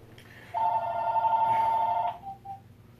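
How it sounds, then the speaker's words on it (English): A telephone rings with a single sustained electronic trill lasting about a second and a half, loud and close, followed by a brief fading echo. "The phone is ringing, and we're just going to let it ring"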